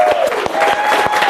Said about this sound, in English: let's have a big round of applause for Kevin James